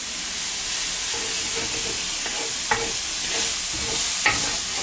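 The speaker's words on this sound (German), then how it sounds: "Rösten wir einmal nämlich die Zwiebelchen an." Onions roasting in clarified butter in a pan, a steady close hiss and sizzle with occasional light scrapes and clicks as they are stirred.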